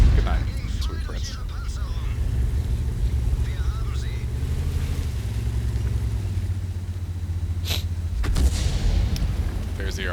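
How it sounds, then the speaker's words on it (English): Artillery shells from World of Tanks crash around the player's tank: a few sharp, loud impacts, one near the start and a heavier one near the end, over constant low engine rumble. "There's the Arty, who's run out of teammates to shoot at. So he's shooting at me."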